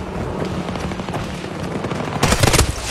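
Gunfire and explosions in the video game Battlefield 2042: steady dense battle noise throughout, with a louder, heavier burst near the end that fits a grenade blast.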